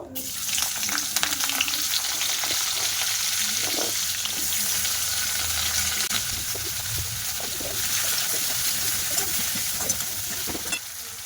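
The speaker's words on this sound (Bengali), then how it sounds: "এবার আমি ওই তেলে আবার উচ্ছেগুলো সব ভাজা করে নেব" Pieces of bitter gourd frying in hot oil give a continuous loud crackle and sizzle, broken by scraping and clattering as a spatula stirs them around the pan.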